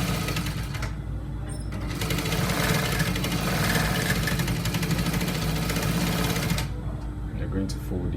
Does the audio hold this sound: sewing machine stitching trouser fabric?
yes